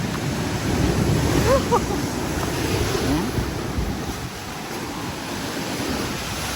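Rushing water and waves churn steadily in a strong current during a typhoon in Parara, Tigbauan, under gusty wind noise buffeting the microphone, loud and close throughout.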